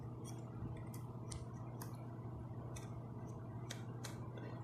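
Boom microphone of an EPOS PC 8 USB headset being moved in steps, giving a series of faint, sharp clicks spaced unevenly over a steady low hum, close up with no talking.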